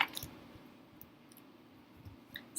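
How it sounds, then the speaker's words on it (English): Oversized tarot cards shuffled by hand in an awkward grip, giving soft, close papery rustles and light flicks in a quiet room, with no talking. "I'm going to shuffle these."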